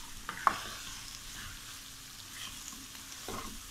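Aloo gobi sabzi with garam masala sizzles quietly in a pan while a spoon stirs it, giving a couple of soft scraping clinks over a low, steady frying hiss.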